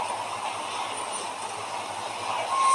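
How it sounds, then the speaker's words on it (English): A circus transport train for animals in Minecraft gives off a steady, airy rail rumble and hiss, with a faint high squeal near the end, continuous and moderately loud, with no voices. "is this the train, like, this is the transport train for the animals for the circus?"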